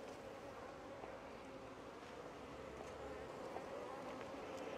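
Honeybees buzz at an open hive in a well-populated brood box. The drone is a steady, dense hum and sounds close, with faint wind noise and no talking.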